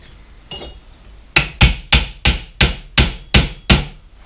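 A chisel is hammered in as a wedge between the brake shoes of a Simson S51 moped: one light tap, then eight sharp, evenly spaced metallic hammer blows, close and loud.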